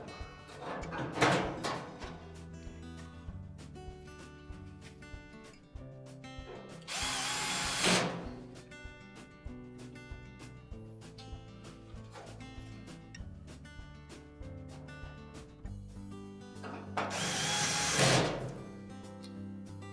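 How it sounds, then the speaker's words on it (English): Power drill running in short bursts while driving screws to secure the drum support of a Whirlpool dryer, with two louder, longer whirring runs standing out over a steady background hum. "You just secure it in place with the 2 screws."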